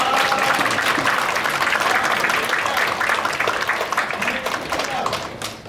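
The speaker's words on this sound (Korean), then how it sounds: "이 자리를 빌어서 한번 박수 한번 보내주세요" An audience at a policy forum on e-book accessibility claps in steady, dense applause that fills the room, loud and close, tapering slightly toward the end.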